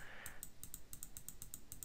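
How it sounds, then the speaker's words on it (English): Mouse clicks in a fashion dress-up video game, a quick series of about a dozen light, crisp clicks in an irregular rhythm, close and fairly quiet, with a brief soft tone at the start and no talking. "If I keep clicking, there we go."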